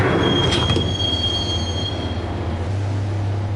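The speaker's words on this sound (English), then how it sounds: "the train doors had already shut behind me, and I was in for the ride" Subway train riding along the rails in the video game Max Payne, loud rumbling with high metallic wheel squeal and a few clacks early on, a steady low drone throughout, no voices.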